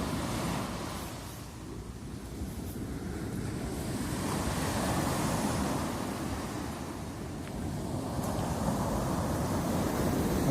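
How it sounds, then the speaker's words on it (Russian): Waves of the sea roll and break on the Turkish shore in December in a continuous roar that swells and eases over several seconds, with wind buffeting the microphone. "Море сегодня шумит."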